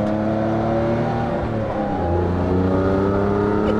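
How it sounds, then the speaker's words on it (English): The exhaust of a new Morgan Super 3 three-wheeler gives a steady, loud, deep thrum, a continuous rich engine drone that holds throughout with slight shifts in pitch. "It's got a lovely thrum to it."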